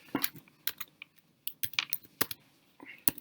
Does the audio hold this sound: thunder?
no